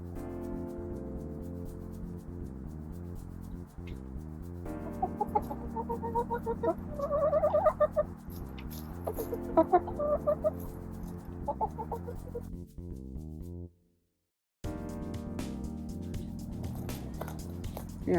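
Chickens kept outdoors in cold weather cluck softly and intermittently over a steady low hum, with a brief silent gap near the end.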